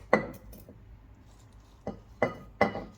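Onion and other ingredients for a shrimp and dried-fish bharta dropped into a blender jar, giving a few sharp glassy clinks, one early and three close together near the end, with no talk.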